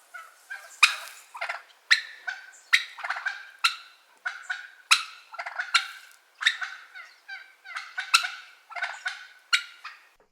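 Wild turkeys gobble in a steady run of loud, rapid, rattling calls, each burst sharp and close, repeating about every second with no voices over them.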